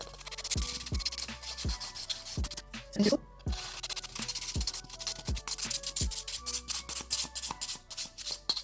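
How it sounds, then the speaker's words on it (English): A soft nail file rasps across fingernails in quick, regular back-and-forth strokes, close and crisp, with a brief pause partway through and no talking. "I'll usually go in with a softer file to remove the grits out of the nail"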